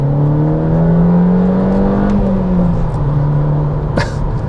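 A car engine held at higher revs in a lower gear, heard from inside as a steady, loud, droning hum that sags slightly midway, with a short sharp noise near the end.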